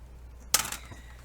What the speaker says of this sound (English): I'm going to be using the knife to do this because this dulls the blade in my cutters